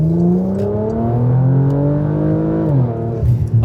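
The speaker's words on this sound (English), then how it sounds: "And this Soul exhaust gives this car the most amount of soul that you could think of." A Porsche Macan GTS with the Soul exhaust, set to Sport Plus, revs loudly and close up in a steady rising drone that dips briefly near the end.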